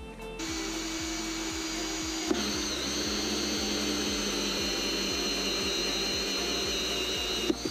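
A power drill boring a hole through the body of a Promaster van, a steady loud high whine running almost unbroken from start to finish, close by with no talk.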